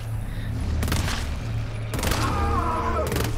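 Heavy bursts of turret gunfire in the co-op horror shooter GTFO, two or three loud volleys punching through a steady low ambient drone with short pauses between them.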